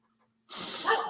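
A single short, sharp bark or yip from a dog indoors, heard alone after a brief silence.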